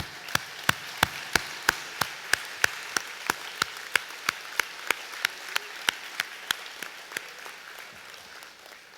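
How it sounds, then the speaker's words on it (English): Steady applause from an audience honouring 2017 graduates at the NSCC Burridge Campus convocation, sharp claps and a dense patter continuing without pause throughout, fading a little toward the end. "Let's have another round of applause for them."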